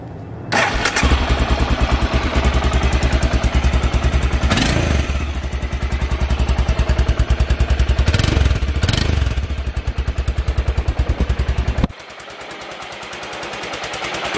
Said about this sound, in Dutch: Ik zal deze bike eens starten voor jullie, want jullie hebben het ook nog niet gehoord.